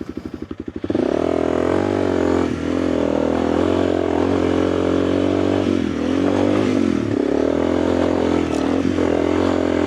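A dirt bike engine chatters up close, then roars steadily and loudly as the rider passes on a rough mountain trail, with the engine note rising and dipping throughout.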